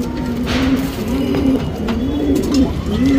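Male pigeon cooing in steady, repeated rolling phrases throughout, close and fairly loud over a constant low background hum, with no talk.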